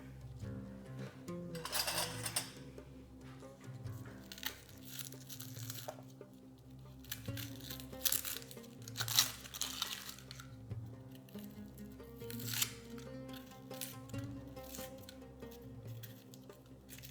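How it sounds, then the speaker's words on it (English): Onions are peeled by hand with close, crisp tearing and crinkling of their papery skins in repeated bursts, over a low steady background hum. "Peel the onions."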